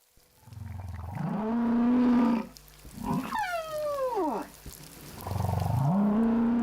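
Whale song from large whales in open ocean: long, tonal moans that rise and hold, then a high, sweeping series of descending calls, and another swelling moan at the end. Clear and fairly close with no other sound.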